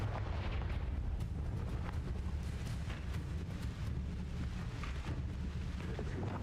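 A Confringo fire spell blasts in a video game, a dense, steady roaring rumble that fills the whole stretch without a clear single bang.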